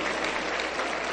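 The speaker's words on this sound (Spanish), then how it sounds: "Un fuerte aplauso para el Señor Jesús" Dense, steady applause from a church congregation during a Spanish-language service, a continuous wash of many hands clapping close and loud throughout the brief moment, with no voices standing out.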